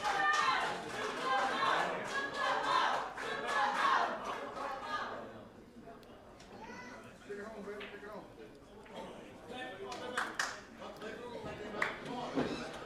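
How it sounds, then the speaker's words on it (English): Teammates cheer and clap for a player during an Asia Pool Challenge team pool match in Ho Chi Minh City, a lively burst of crowd voices up front that drops back to murmuring and scattered talk. "Mohammed's teammates cheering him on."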